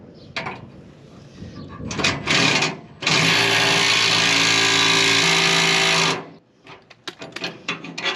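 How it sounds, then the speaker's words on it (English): Impact wrench on the wheel nuts of a 1984 Ford F250 Bullnose pickup: a few short bursts, then about three seconds of continuous loud whirring rattle that cuts off abruptly, followed by clanks and clicks nearby. "don't tell Kara the new impact didn't work"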